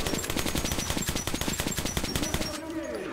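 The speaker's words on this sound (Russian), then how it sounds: "Ой, голдой стреляю." Rapid automatic gunfire in the shooter game Metro Last Light, loud and continuous bursts of shots for most of the moment before tapering off, with game effects behind.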